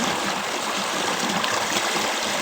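Water gushes from a village borewell, a steady, close rushing splash with no breaks, heard alone without talk.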